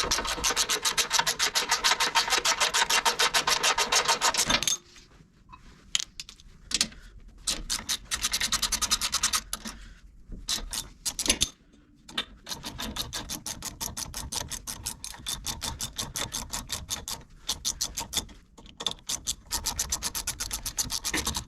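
Loosened bolts are pulled out of an aluminum steering box skid plate on a Jeep TJ/LJ, making close, gritty scraping and rubbing in bursts, with short quiet gaps between pulls.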